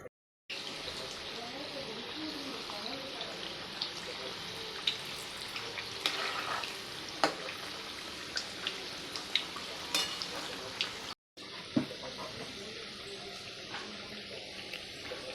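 Pieces of pudachi batti, a layered dough, fry in hot oil with a continuous bubbling sizzle and occasional sharp pops. The sizzle cuts out briefly near the end, then resumes.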